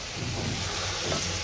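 Spice paste frying in a pan gives a steady, close sizzle with no voices.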